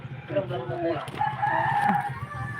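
A mother hen clucks and calls at moderate distance over a steady low background. Human voices murmur faintly underneath.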